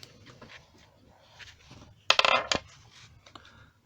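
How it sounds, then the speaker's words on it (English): Dice rolled by hand during a Fighting Fantasy gamebook session give a short, sharp clatter lasting about half a second, close and fairly loud against a quiet room with faint murmuring before and after. "Roll dice."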